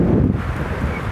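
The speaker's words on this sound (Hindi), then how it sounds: "बहुत तेज़ हवा चल रही है" Strong wind gusts outdoors on an outing, a loud, steady broadband roar with rumbling buffeting against the microphone throughout.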